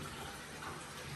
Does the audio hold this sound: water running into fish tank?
yes